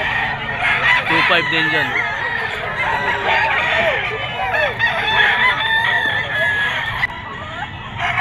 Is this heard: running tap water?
no